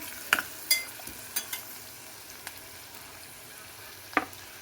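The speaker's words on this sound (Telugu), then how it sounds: "బాగా ఎర్రగా వేగాలండి." Green moong dal frying in a pan until reddish, a faint, steady low sizzle broken by a few sharp utensil clicks and scrapes.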